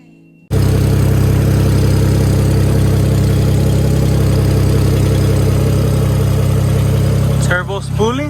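BMW 335i fitted with a big turbo, its engine running loud and close with a steady heavy roar and rising turbo spool for several seconds, then a brief dip as it settles; no talk over it.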